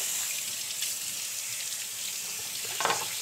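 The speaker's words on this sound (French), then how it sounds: "bien les rincer sous l'eau froide" Duck legs rinsed under cold running tap water in a kitchen, a soft steady splashing stream with occasional louder spatters, faint and without talk.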